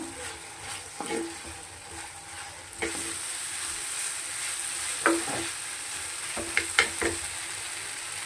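Tomatoes and a handful of cashews frying in oil for a curry to serve with pulao, a steady soft sizzle with a few sharper clicks of a spoon against the pan, close and fairly quiet.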